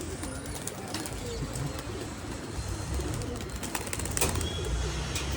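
Kolkata pigeons cooing softly in a low, repeated rhythm in a loft, with a few faint bird chirps and light rustling in the background.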